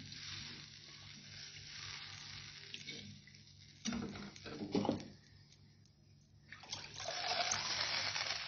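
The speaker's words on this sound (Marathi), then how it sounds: "गरम पाणी, जेवढा रस्सा करायचा तेवढंच पाणी टाकून घ्यायचं" Hot water poured into a simmering mung-wadi rassa curry in a pan, a steady watery pour with sizzling, swelling in short splashy bursts midway and building again at the end, close by with no talk.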